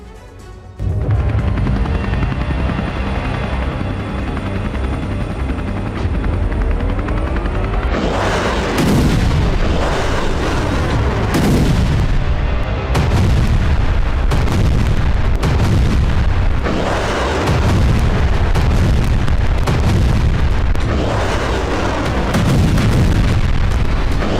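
Explosions and artillery fire during the Israel-Gaza war: a loud, continuous rumble with repeated heavy booms and blasts landing every second or two, dense and overlapping, no talking.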